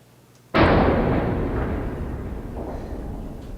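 A single loud, resonant bang struck on a hollow tin chest costume in a school stage musical, with a long ringing decay that trails off over several seconds.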